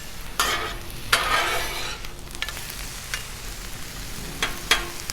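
Food being mixed and scraped with a spatula on a 36-inch Blackstone griddle while it sizzles, several bursts of scraping and stirring over a steady frying hiss, close and fairly loud, with no talking.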